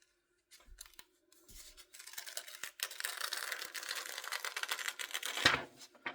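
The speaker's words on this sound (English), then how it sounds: "You always want to peel from one of your edges when you take your design off" Glow-in-the-dark DTF transfer film being peeled from the edge of a design, giving a long, steady crackling rip that builds in loudness and ends with a sharp snap, close and alone.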